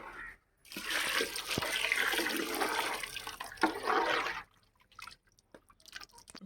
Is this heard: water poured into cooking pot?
yes